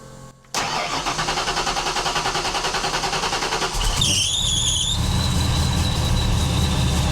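A Foxbody Mustang engine cranks and fires, then a supercharger lets out a rising, wavering squeal for about a second after start before settling into a steady idle, close and loud.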